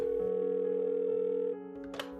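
Phone dial tone: a loud, steady electronic tone holds unbroken for about a second and a half, then drops in level as brief clicks and a short noisy burst follow.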